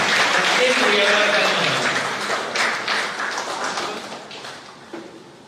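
Applause from an audience at a felicitation ceremony for meritorious students, a dense burst of clapping that begins strongly and then gradually thins out, with a voice speaking partway through.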